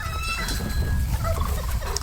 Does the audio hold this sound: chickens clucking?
yes